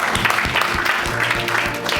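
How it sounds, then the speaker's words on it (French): Congregation at a night miracle service in praise of the Lord, clapping steadily and loudly in a busy room, with voices and a low musical drone mixed in underneath. "Acclamons le Seigneur."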